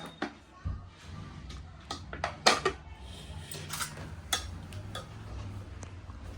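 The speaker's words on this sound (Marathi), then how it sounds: "भाई आपला फुल सज्ज आहे भांडी घासायला." Dishes, pots and utensils being washed in a home kitchen, with scattered light clinks and clatters at irregular intervals, fairly quiet, alongside faint background talk.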